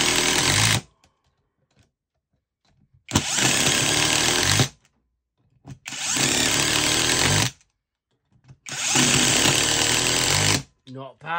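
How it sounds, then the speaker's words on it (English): A copy of a Makita TD173 impact driver drives screws in three loud bursts of about one and a half seconds each, separated by short silent pauses, with a brief trailing burst at the end. "we're gonna drive 4 of these screws in and see how it does"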